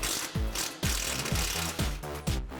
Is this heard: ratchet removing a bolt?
yes